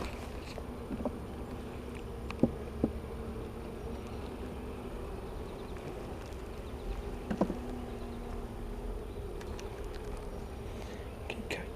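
Honey bees buzzing in a low, steady drone during a hive inspection, with occasional faint clicks and taps of handling frames nearby.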